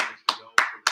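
Three or four sharp, separate claps spaced about a third of a second apart in an NFL draft room, close and moderately loud with brief decays and no other sound.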